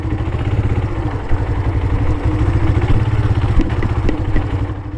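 A motorcycle engine being broken in, about 300 kilometers old, runs steadily up close, a loud rhythmic idle chug with rattling mechanical clatter and no voices.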